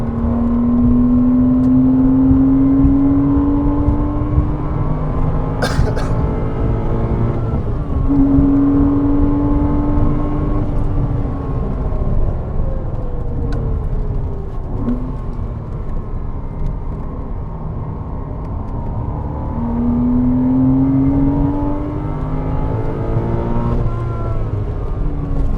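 Porsche Cayman 987 engine droning steadily on the Bedford Autodrome track, with rising revs that drop and climb again at upshifts, loud and continuous throughout with a brief sharp transient partway through.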